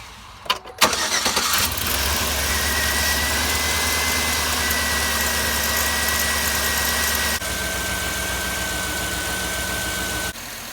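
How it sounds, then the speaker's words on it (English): A Chevy Avalanche 5.3 V8 with new serpentine belts and tensioners cranks briefly, catches and settles into a steady, close idle with a thin belt whine, the pitch dropping slightly as the idle eases near the end. "I'm going to start it and we're going to watch how the belts are tracking."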